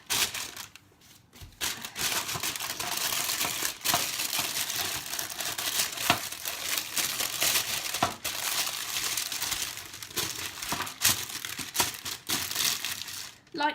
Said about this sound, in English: so I'm gonna get my baking paper